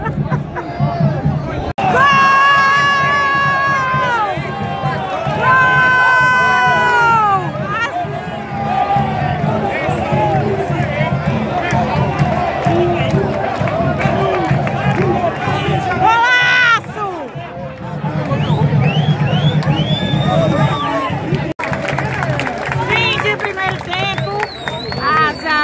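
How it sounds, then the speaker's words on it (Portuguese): Football fans in the stands at a Campeonato Alagoano match between ASA and CSE make a loud, dense roar of shouting and chatter. The crowd noise swells throughout with voices near and far. "A torcida se revolta"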